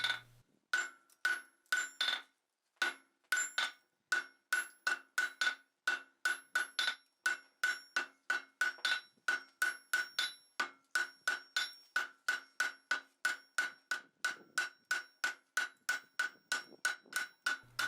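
A hammer forges a steel bar on an anvil, drawing it down to round. Dozens of sharp, ringing blows fall in a steady, even rhythm, close and alone with no talking.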